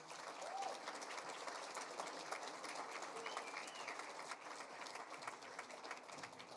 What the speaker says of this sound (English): if we could have a huge round of applause one more time for the Northern Snow team back there